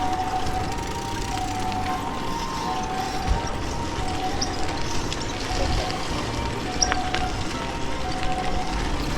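A distant ambulance siren wails steadily for several seconds beneath a constant murmur of outdoor noise in rural Japan near dusk, with faint bumps and movement nearby.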